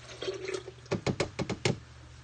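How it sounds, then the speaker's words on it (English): Coconut milk is poured into a mixing bowl, giving a short run of soft glugging splashes and hollow knocks in an uneven rhythm, quiet and close by. "I do have coconut milk, however, so I'm going to use that. So I'll pour that in here."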